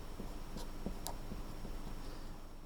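A pen or marker scratches across a board in a few short strokes and taps, faint against a steady room hum with no talk.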